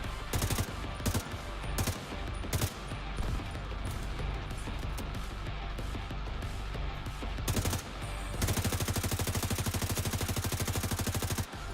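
Rapid automatic turret fire in The Division 2, dense continuous bursts of gunshots that intensify into a tight rattling stream near the end.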